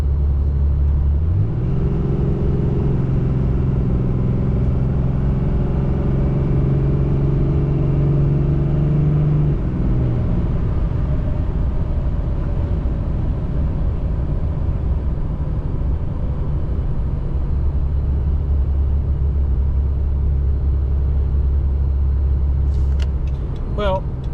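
A 6.7 Cummins diesel pickup climbs a grade under hard throttle, its deep engine drone rising and then settling into a steady loud rumble inside the cab while someone talks over it.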